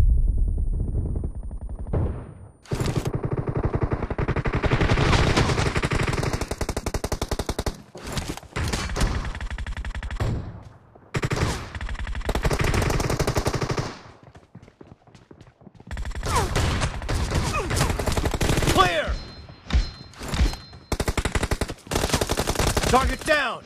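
Sustained bursts of M416 rifle fire in PUBG Mobile, loud, dense rapid automatic shots in long strings with a few short pauses, close and dominating, with voice callouts heard briefly.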